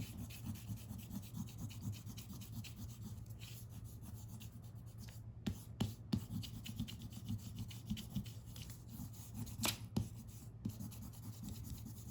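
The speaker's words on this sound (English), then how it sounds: "we're gonna go ahead and erase all of our pencil lines" An eraser rubs back and forth over drawing paper to remove pencil lines, a steady close scratchy rasping with a few sharper scrubs and taps, no talking.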